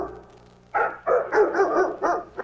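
Dog barks sampled and played on a keyboard in the key of G, a quick run of five or six bright, pitched woofs in a loose rhythm after a moment of quiet, close and alone.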